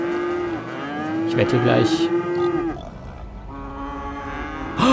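Cattle mooing in the city-building game Cities: Skylines, several long drawn-out moos, clear and fairly close, with a short game sound between them and someone speaking German briefly over them.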